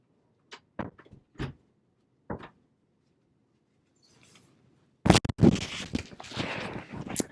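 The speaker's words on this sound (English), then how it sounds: "I'll go ahead and close the door." A door is pulled shut in a quiet room, with a loud thud and rattle about five seconds in, followed by rustling handling noise; a few faint clicks and taps come before it, and no one speaks.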